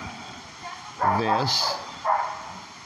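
A dog barks a couple of times close by, outside a new apartment in Valencia in the Philippines, with short yipping bursts mixed in among a person's speech.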